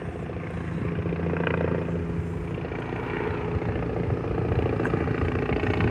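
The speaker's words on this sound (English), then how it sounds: "I hear the helicopter. I think he's on his way back." A steady, thrumming, heavy-sounding engine drone with rapid rotor pulsing, loud and continuous, as a helicopter passes low over trees in Broadview, not far away.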